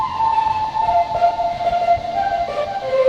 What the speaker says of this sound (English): there's this cool synthesizer that actually comes in when the bridge hits